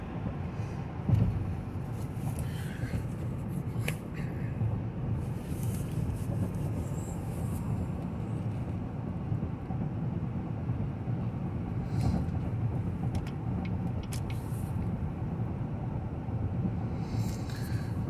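A 2018 GMC Yukon Denali with a repairable salvage history cruising down a road, giving a steady low engine and road rumble inside the cabin with a few faint clicks and thumps, no talking.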